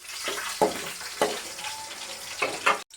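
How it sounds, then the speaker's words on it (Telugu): Crackling sizzle of cumin and mustard seeds frying in hot oil in a pan, with a few sharper pops and spatters rising over a steady hiss, close by. "ముందు ప్యాన్ పెట్టుకొని ఒక రెండు పావులు నూనె పోసుకొని దాంట్లో కొంచెం జీలకర్ర పోపు గింజలు వేసుకున్నాను"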